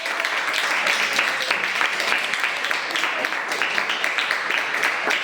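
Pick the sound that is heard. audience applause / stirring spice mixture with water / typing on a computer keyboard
audience applause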